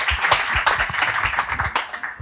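Conference audience applauding at the opening of a talk on cryptocurrency ethics, a lively burst of many hands clapping close and fairly loud, individual claps standing out in a brisk, uneven rhythm.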